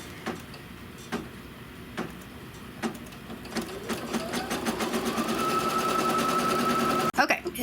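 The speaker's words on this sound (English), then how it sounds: "And now it's just going to stitch the tack down to hold that project batting" An embroidery machine stitches a tack-down line over project batting for a trapunto pillow, starting with sparse single needle strikes that quicken into a steady, rapid rhythmic whirr.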